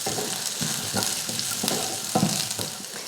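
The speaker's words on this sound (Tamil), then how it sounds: "வெங்காயம் பாருங்கள் இந்த அளவுக்கு வதங்கினதுக்கப்புறம் இதில் தேங்காய் சேர்த்துருவோம்" Chopped onions and coconut pieces sauté in a hot pan for a Tamil country-chicken curry, a steady close sizzle broken by regular scraping stirs.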